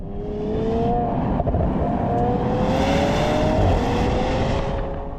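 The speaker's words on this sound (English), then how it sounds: "immediately you'll hear the flaps open as well, so you get a bit more of the V6 sound immediately" A 2025 Audi SQ5 with its V6 engine in dynamic mode, exhaust flaps open, giving a loud, steady, throaty drone with rising engine tones, close and continuous throughout, with no talk.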